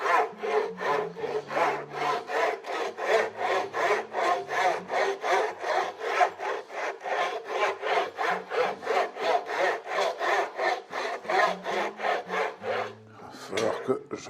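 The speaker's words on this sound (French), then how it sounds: "A priori, c'est une espèce de râpe." A rasp filing wood by hand on a guitar-building job, with steady rhythmic strokes repeating about twice a second, close and clear, before the strokes stop near the end.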